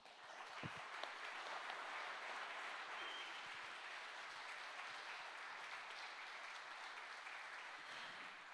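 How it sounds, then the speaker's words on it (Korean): Long, steady applause from a large audience at a company's 50th anniversary ceremony, dense and even throughout, fairly distant and soft, with no voices standing out. "이렇게 긴 박수가 나올 만큼"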